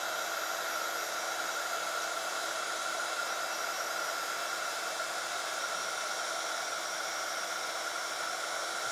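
A heat tool blasts a steady, close, continuous hiss and whoosh of hot air while melting embossing powder on a craft project, unbroken for the whole stretch.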